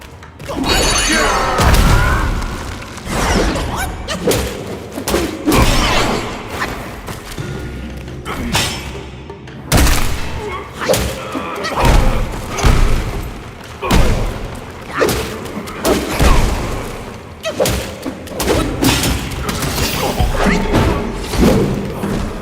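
A Black Myth: Wukong battle with an enemy hurling stones sounds like a loud, continuous barrage of heavy thuds, booms and crashing impacts, layered with clattering effects throughout.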